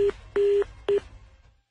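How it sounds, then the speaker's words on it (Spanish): Three short electronic beeps of a phone line's hang-up tone, evenly pitched with brief gaps, the middle one longest, fading to silence. "¡Colgó el teléfono!"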